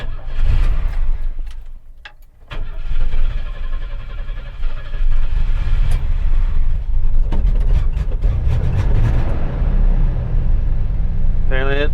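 A 1st gen S10 pickup engine cranks briefly, catches and settles into a loud, steady, rumbling idle heard up close, with a short squeal near the end.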